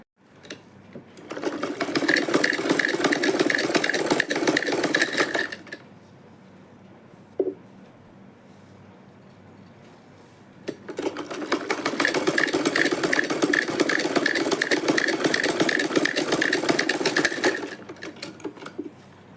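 A sewing machine stitches a belt onto a handbag in two loud sustained runs of rapid mechanical chatter, separated by a quieter pause with a single short click.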